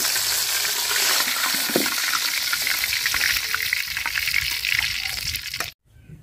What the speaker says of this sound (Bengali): তো মাছ আমি লাল লাল করে ভাজা নিচ্ছি, এখন তুলে নিব, বাকিগুলো ভাজা নিব মাছ।